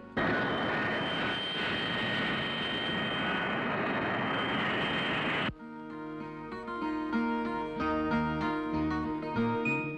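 A passenger flight in a Telugu film gives a loud, steady jet roar that cuts off sharply after about five seconds, when background music takes over.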